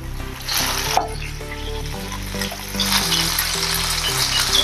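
Semolina snack pieces deep fry in hot oil, a loud, continuous close-up bubbling sizzle with occasional stirring sounds and a brief sharp crackle, with music running underneath.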